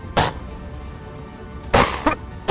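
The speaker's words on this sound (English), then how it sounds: "he breaks into a coughing fit" Sidney, a painter, coughs in short harsh bursts: one near the start, then a tighter cluster of two or three coughs later, loud and close with quiet room tone between.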